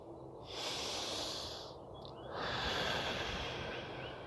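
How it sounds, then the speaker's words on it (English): Slow, deep human breathing during a guided meditation: a long airy inhale followed by a longer hissing exhale, then another breath, close and steady with no talking. "So we're going to take some deep breaths now."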